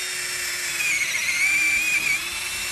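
A Black & Decker 20V lithium cordless drill boring a 5/16 inch hole, giving a steady high-pitched motor whine that rises slightly in pitch while cutting, heard close and alone for under three seconds.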